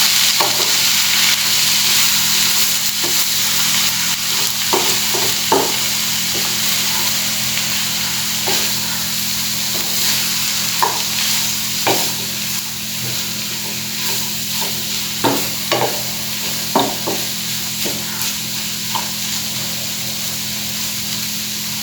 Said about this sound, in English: Now we'll add the vinegar. Again we'll mix well.